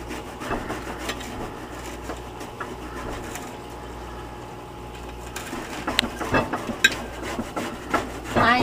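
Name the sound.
chopping sorrel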